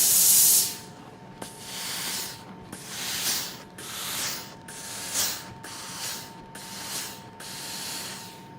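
A steam iron pressing quilt block seams flat, giving a loud burst of steam hiss at the start and then a string of softer rhythmic hissing puffs about once per second, close up with no talking.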